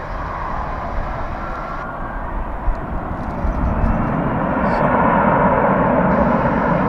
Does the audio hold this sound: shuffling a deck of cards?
no